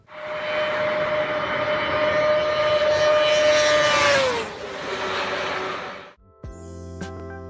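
Big inline-four motorcycle engine revving high with a steady whining pitch, then dropping as the revs fall, before cutting off into a short different mechanical sound.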